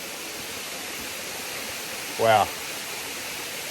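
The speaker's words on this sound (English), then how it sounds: "so we just made it up to Miriam Creek Falls now." A rainforest waterfall at Miriam Creek Falls roars as a steady, broadband wash of falling water throughout, with a brief exclaimed voice rising over it near the end.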